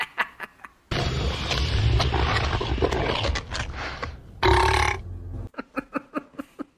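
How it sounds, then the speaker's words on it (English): In a scene from the film Mortal Kombat Annihilation, a monster lets out a long, deep, roaring burp, loud and close, in two surges, with short rhythmic thuds before and after. "And it eats her and then burps."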